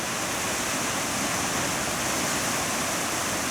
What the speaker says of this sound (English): Look at the amount of water being released to this one.